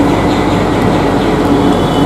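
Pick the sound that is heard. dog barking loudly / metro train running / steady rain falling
metro train running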